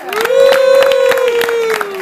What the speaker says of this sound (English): Give Liz a big round of applause